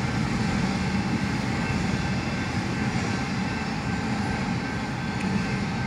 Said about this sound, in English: This train just came.